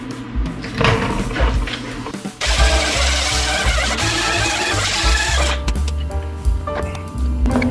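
A MIG welder lays tack welds on the driver-side bed fender of a 1949 Jeep Willys pickup, outdoors in humid air: a close, harsh buzzing crackle that runs steadily for a few seconds between quieter metallic handling noises.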